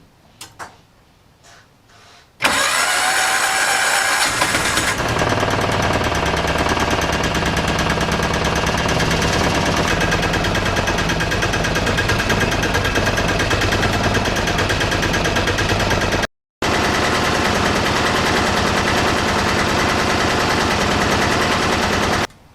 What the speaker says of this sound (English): I'll show you how much the engine vibrates